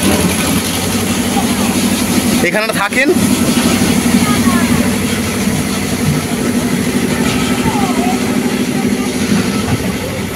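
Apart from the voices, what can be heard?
fishing trawler main engine running in engine room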